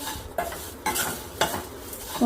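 Flattened rice (aval) stirred in a pan while being gently heated, with brisk scraping strokes repeating about every half second over a soft dry sizzle, close and clear.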